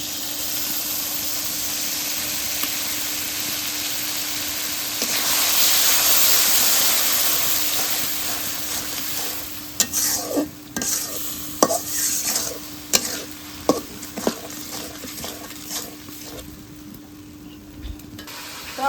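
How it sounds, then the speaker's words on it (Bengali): Tomato paste and spices fry in a pan for a Bengali egg and pointed gourd dish. A steady close sizzle builds, then gives way to repeated scraping stirs of a utensil against the pan. "টমেটো মশলা ভালো করে কষে নিলাম"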